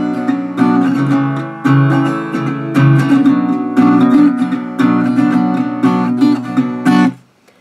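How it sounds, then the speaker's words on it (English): Acoustic guitar strummed in a steady repeating pattern for a song, chords ringing full and close in several bursts separated by brief pauses, with no voice over it. "the strumming pattern you're going to do is going to sound like this."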